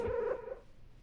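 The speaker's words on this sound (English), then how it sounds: "The cat purrs and rubs up against you." A cat in a video game purrs and mews briefly, a soft, close, tonal rumble lasting under a second before fading into quiet.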